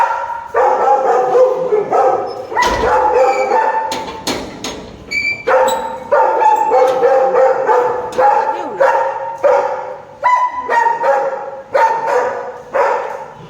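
A dog barks repeatedly in quick, loud bursts, close by, with some yips and whimpers mixed between the barks.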